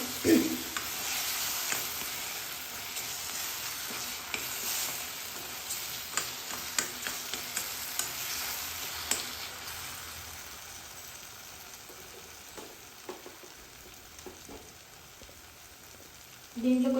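Green chilli chutney simmers in a pan, giving a faint steady sizzle with soft stirring scrapes, quiet and close throughout.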